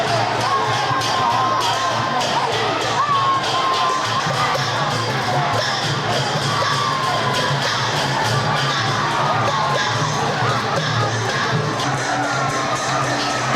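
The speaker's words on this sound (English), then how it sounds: "The crowd is going wild." A festival crowd at a Burmese paper fire-balloon launch cheers and roars without pause, with children shouting high above the dense, loud wall of voices.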